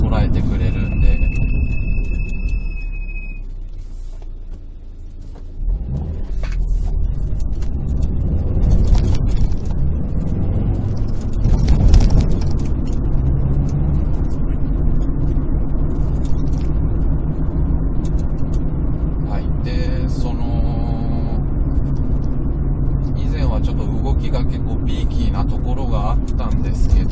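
Subaru WRX STI (VAB) with CUSCO body reinforcement driven on the road, a steady low engine and road drone running throughout beneath someone talking about the ride.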